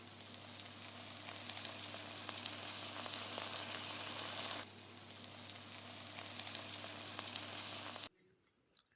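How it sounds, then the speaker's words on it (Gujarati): Bhungala fryums fry in hot oil in a kadai, giving a steady, close crackling sizzle with occasional sharp pops. It runs unbroken for about eight seconds, then drops abruptly to near silence. "કઢાઈમાં તેલ ગરમ કરી લઈએ તેમાં ભૂંગળા નાખી અને ભૂંગળાને ફ્રાય કરી લઈએ"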